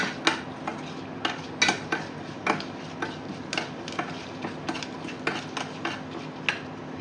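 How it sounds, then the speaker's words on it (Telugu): Mustard seeds pop and splutter in hot oil as tempering for sambar, a steady scatter of sharp crackling ticks at irregular intervals over a soft sizzling hiss, close by with no talking. "ఆవాలు చిప్పట్ అంటున్నాయి."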